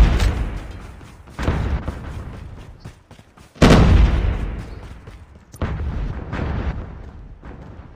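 Air strike explosions in a battle royale video game, a series of heavy booming blasts with long rumbling decays, the loudest near the middle of the run, alone without talk.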